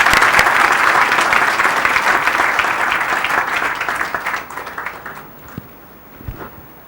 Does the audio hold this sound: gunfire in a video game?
no